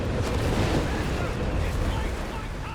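In the video game Company of Heroes 3, a rocket artillery barrage sets off dense, continuous rumbling explosions, a loud low roar with bursts blending together, while a voice talks faintly underneath.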